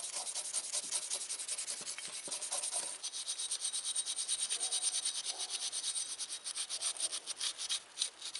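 Steady, raspy wire-brush scrubbing on an old King Dick wrench, a continuous close rubbing scratch with rhythmic strokes throughout, no voices.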